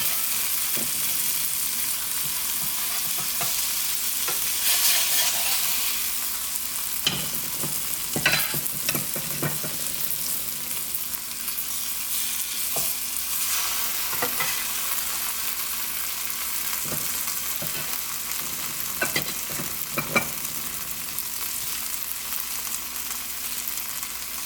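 Flour-dredged cube steaks fry in a pan with a loud, continuous close-up sizzle, punctuated by occasional clicks and scrapes as the meat is turned.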